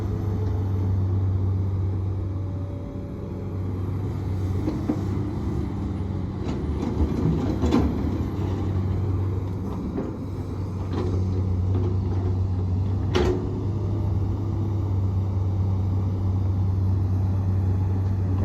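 A heavy six-cylinder diesel engine of a Komatsu PC200-8 excavator drones steadily up close while digging soil, with a deep rumble that swells and eases slightly as it works.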